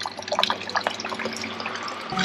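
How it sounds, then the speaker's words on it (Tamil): Water splashes and patters near a waterfall stream in Lauterbrunnen, Switzerland, with irregular close drips and splashes over a constant rushing background. "அது பாருங்கள், அழகாக தண்ணி விழுந்துட்டுருக்கு."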